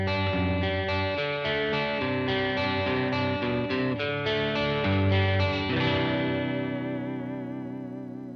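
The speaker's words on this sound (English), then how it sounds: "And then in the middle position, the single coil bare knuckle pickup sounds like this." Ibanez EX-370 electric guitar on its middle-position Bare Knuckle single-coil pickup plays a run of chords through chorus and echo, bright and close, before a final chord rings and slowly fades with a wavering shimmer.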